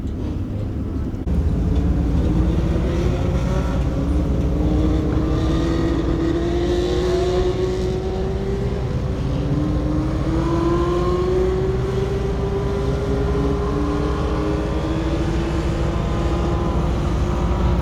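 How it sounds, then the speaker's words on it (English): A single Legend race car rolls out onto the Bega Speedway track, its engine droning loud and close and climbing slowly in pitch over nearly eighteen seconds, with a faint roar of distant crowd and track noise underneath. "Okay, we've got one Legend car coming out onto the track."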